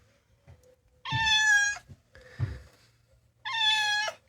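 A house cat meows three times close up, two long harmonic calls with a shorter, rougher one between, in a quiet room.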